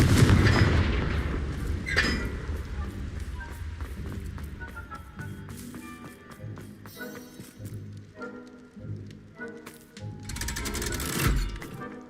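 A Confringo fire spell blasts in Hogwarts Legacy: a loud booming explosion opens, followed by rattling impacts and debris, with further bursts and a strong blast near the end amid game sounds.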